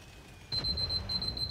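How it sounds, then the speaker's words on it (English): A steady high-pitched alarm clock beeping starts partway through and repeats in short pulses over low game background noise, with no talk. "Ah, my alarm."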